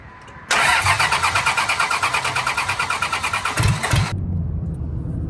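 A diesel truck engine cranks with a rapid rhythmic churn for several seconds, then fires for the first time and settles into a rough, loud idle nearby.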